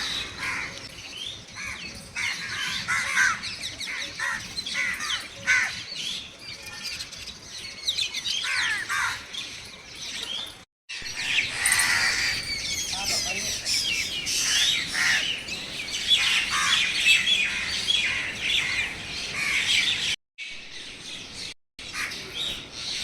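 Crows and mynas calling around a village house, a dense, continuous chorus of harsh caws, squawks and chattering chirps, loud and close, with brief gaps.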